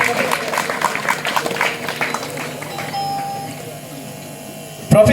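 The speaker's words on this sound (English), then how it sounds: "Please give a round of applause." Applause for an award winner at a school graduation ceremony, a dense burst of clapping that fills the first couple of seconds and then thins out, with a voice over it and a short sharp sound at the end.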